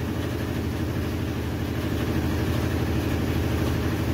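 A GE HE washing machine spins its drum at high speed, producing a loud, continuous roaring whir with a fast, even pulsing throb, close and steady throughout.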